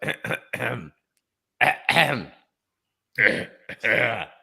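A voice imitates a person clearing his throat, three short rough bursts broken by pauses, close and fairly loud with no other sound around them.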